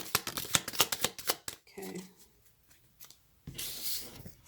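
A deck of cards is shuffled up close as a rapid run of crisp riffling snaps, followed by a short spoken moment, then a brief burst of cards sliding together.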